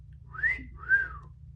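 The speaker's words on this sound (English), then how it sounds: "He started to whistle." Two rising-and-falling whistled notes from a person, clear and close, like a short wolf-whistle phrase, with a low hum underneath.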